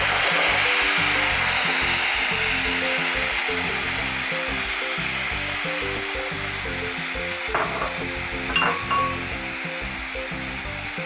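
Dal sizzling and frying in hot oil with cumin seeds and whole round red chillies, a steady close hiss that runs the whole time, with a few small clinks of stirring near the end.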